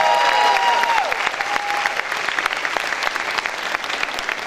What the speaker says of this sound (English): Can y'all give my baby a round of applause?